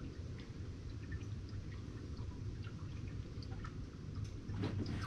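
Fresh motor oil pours from a bottle tilted on its side into a 2011 Ford Taurus, a faint, steady liquid gurgle with soft drips that grows slightly fuller toward the end, with no talking.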